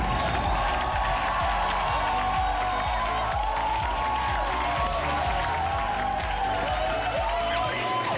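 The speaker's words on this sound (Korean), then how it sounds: "여러분 박수로 맞이해 주십시오." A studio audience applauds steadily to welcome a guest, famed lecturer Kim Chang-ok, on a Korean talk show, with dense clapping and some cheering sustained throughout.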